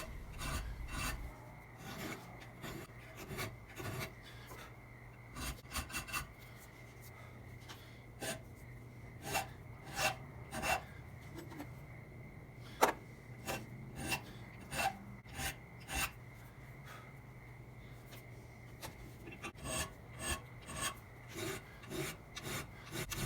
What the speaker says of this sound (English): Just keep filing away, comparing it to my other one for reference.